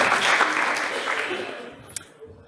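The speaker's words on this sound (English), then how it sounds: "So, a round of applause to Gary." Audience applause at a summit breakout session in Edinburgh, welcoming a user experience designer and behavioural scientist to the stage; the clapping is fairly loud at first, then thins and fades, ending with a couple of faint thumps.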